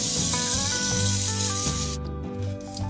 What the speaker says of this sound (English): Alright, so a little spray there.